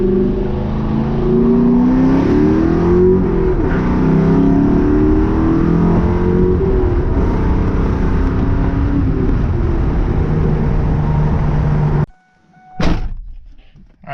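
A car engine roars steadily as it accelerates, rising harmonics sweeping upward, sustained loud for about twelve seconds before cutting off, followed by a brief thump.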